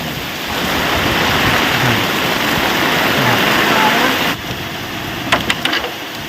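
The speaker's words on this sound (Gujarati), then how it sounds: "વાવાઝોડું વરસાદ બે ભેગું છે" Heavy rain driven by strong storm wind pours down in a village near Botad, a dense, loud, steady roar that suddenly drops lower near the end, followed by a few brief knocks.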